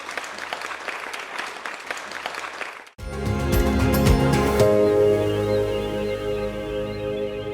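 A studio audience at an Assamese farming programme breaks into sustained applause just before a break, the clapping loud, close and continuous after a short stretch of other sound.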